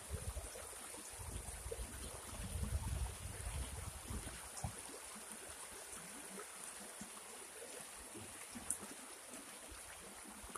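A river flowing under a bridge in the Cibecue area: a faint, steady rushing wash of water with no breaks, heard alone and at some distance.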